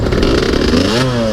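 A 125 dirt bike engine runs loud and close, the revs climbing and dropping as it shifts up through the gears on a muddy ride, with rattling mechanical clatter.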